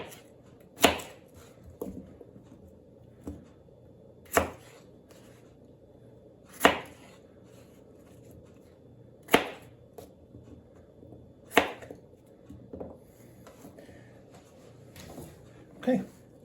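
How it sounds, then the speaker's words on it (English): Slow, deliberate knife chops on a cutting board as vegetables are cut up for camp cooking with a Dispatch Knives DP8076-SB D2 steel flipper folder, about a dozen crisp thuds spaced a second or two apart, with a person talking now and then. "this is all you need to do some butchering and some cutting up of vegetables at the camp kitchen"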